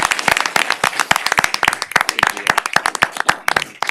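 A room at a city council meeting breaks into dense applause, many hands clapping loudly and steadily in a close, continuous patter with sharp individual claps throughout.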